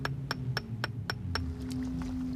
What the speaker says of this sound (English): what we call hammer dressing. It's a long, slow process of picking at the rock.